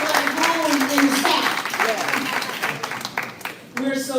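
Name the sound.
audience applauding to welcome a congresswoman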